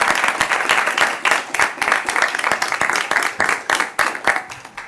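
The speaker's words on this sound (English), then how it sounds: "So if you will join me in a round of applause and salute her." Attendees at a state transportation board meeting give a round of applause, brisk and fairly close clapping with distinct individual claps pulsing through a continuous wash, sustained for the whole stretch.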